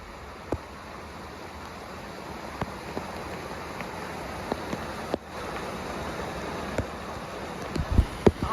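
Steady broadband rain hiss during a hike in the Hautes Fagnes, with occasional sharper drops and taps, continuous and fairly close, no voices.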